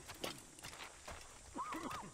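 Video game audio: hooves clop in an uneven walking rhythm, then a horse whinnies, with a voice speaking faintly underneath.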